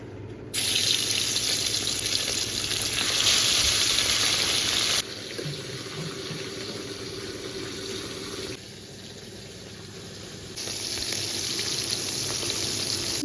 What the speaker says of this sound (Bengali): ওদিকে মাছগুলো ভাজছে